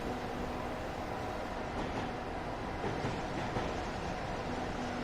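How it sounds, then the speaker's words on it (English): Steady rumble of a Victorian Railways X-Class Alco diesel locomotive in a train simulator game, a continuous rolling drone with faint rail noise and a constant engine tone, no voices. "The Victorian Railways X-Class. It's one of our local trains, but it's based on an Alco diesel."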